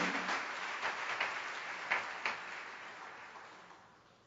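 A church congregation claps in a short round of applause that starts moderately and fades away over about four seconds, a few sharper claps standing out, with no talking.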